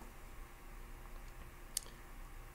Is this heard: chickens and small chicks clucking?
no